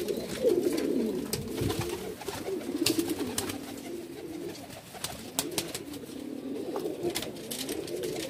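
Pigeons at a pigeon sale in Bhopal, India, coo steadily in soft, rolling phrases, several birds overlapping at close range with no pauses, against a faint background hiss.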